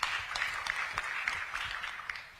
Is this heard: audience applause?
yes